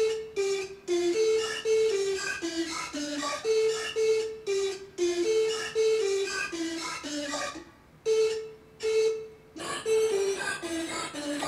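A beat made in FL Studio with OTT compression adding grind and aggression, with pulsing melodic notes over heavy rhythmic hits, brief gaps and a denser section near the end, played alone without speech.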